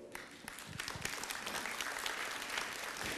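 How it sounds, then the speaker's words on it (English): Audience applause at a real estate agency seminar, scattered claps at first building into steady, fairly faint clapping from a room full of people. "Round of applause to Herianto"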